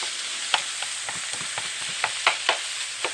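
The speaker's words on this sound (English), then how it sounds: "It's a good sizzle to it." Ground beef sizzles steadily in a hot frying pan, with sharp scraping clicks as a utensil stirs and chops it at irregular intervals.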